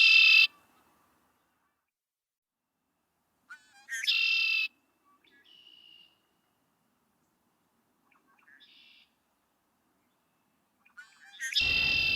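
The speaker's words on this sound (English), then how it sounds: "We hear the sound of a red-winged blackbird that makes its nest in tule plant." A red-winged blackbird calls from tule plants at a slough in a wildlife refuge, several short bright trilling bursts separated by quiet pauses, close and clear, with fainter chirps in between.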